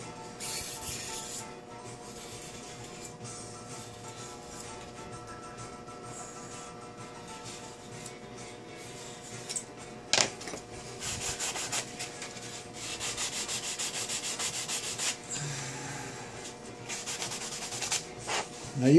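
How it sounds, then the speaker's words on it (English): Steady rubbing scrape of a sanding sponge on wood, in repeated even passes, growing louder and busier toward the end. "Take a little sanding sponge."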